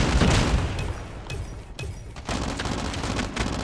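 Pharo SMG firing in Call of Duty Mobile, several short bursts of rapid gunfire, loud and close, with brief gaps between bursts.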